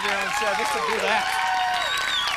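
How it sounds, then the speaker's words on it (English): A studio audience claps loudly in a steady, dense burst of applause, with voices mixed in throughout. "Why are you clapping so loud?"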